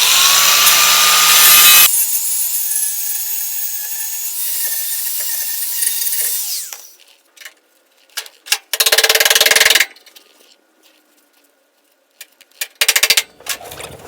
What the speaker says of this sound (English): we're gonna go ahead and grind those off and then check it over.